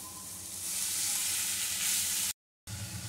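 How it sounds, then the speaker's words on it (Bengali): Fried mourala fish being stirred with spices in a pan for potoler dolma produces a continuous close sizzle, briefly cut by a short gap of silence, with no voices. "মৌরলা মাছটা দিয়ে ভালো করে আমি মশলার সাথে মিশিয়ে নিচ্ছি।"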